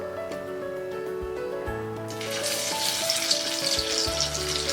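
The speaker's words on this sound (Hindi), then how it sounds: "अब हम ये इडली फ्राई करेंगे।" Cut idli pieces slide into hot oil in a kadai and deep fry, starting with quiet hum and clinks, then erupting into a loud, steady bubbling sizzle that continues to the end.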